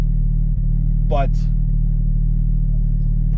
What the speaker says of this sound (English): the flat plane crank, you get the little bit of the noise, vibration, harshness